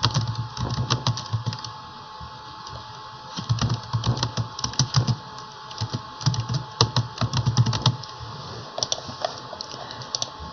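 Keys clacking on a computer keyboard while working in Microsoft Word, with the tab key among them: brisk, uneven bursts of close taps that keep going with only short pauses and no voices.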